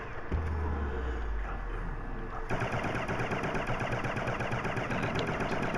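Rapid automatic gunfire from a weapon in a zombies video game mod, a dense run of fast repeating shots that grows louder and brighter partway through and continues steadily to the end, with no voices.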